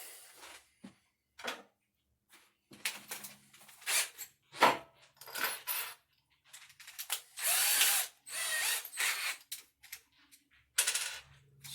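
A screwdriver or drill works a screw out of a western saddle at the base of the swell in short, separate bursts of grinding and clicking, close and fairly loud, with brief silences between them.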